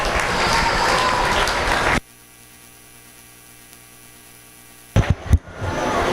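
Crowd applause at a meat goat show fills the first two seconds as a dense, steady clapping wash, then cuts to near silence before a few loud knocks and rustles return.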